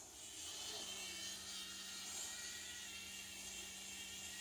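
A Remington Revitalise facial cleansing brush running on its low setting, a faint, steady high-pitched whir holding one even tone throughout.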